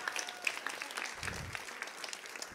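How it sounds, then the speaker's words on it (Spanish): A congregation breaks into applause, a modest, steady patter of many hands clapping at moderate distance. "Dale un fuerte aplauso."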